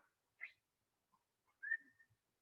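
Children in a Bollywood dance class whistle in short, soft bursts, one brief note followed after a pause by a longer wavering whistle, faint and alone.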